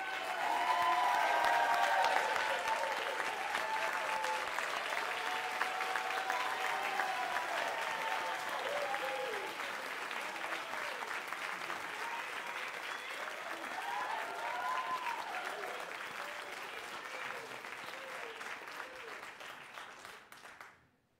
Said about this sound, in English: would all of the finalists please stand so we can give you a final round of applause